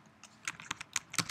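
Quick, uneven keystrokes as code is typed on a computer keyboard, crisp close clicks in a short burst with no speech.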